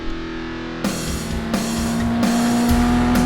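A Ford Fiesta ST150 Mk6 with upgraded brakes drives hard around Castle Combe race circuit. The engine drones loudly with a few abrupt shifts in tone as it brakes into the final corner.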